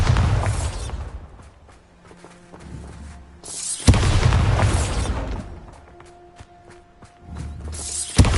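Bombarda spell blasts in Hogwarts Legacy, two loud booming explosions several seconds apart, each bursting sharply and then decaying amid mechanical clicks and ringing tones.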